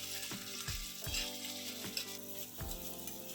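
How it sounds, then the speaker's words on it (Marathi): Vegetables and onion for masala Maggi are stirred in hot oil with a rhythmic series of utensil scrapes and taps against the pan over a soft sizzle. "हे व्यवस्थित आपण मिक्स करून घेऊया तेलामध्ये"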